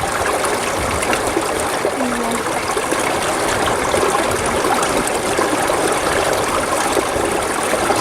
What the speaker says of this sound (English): Here's that river.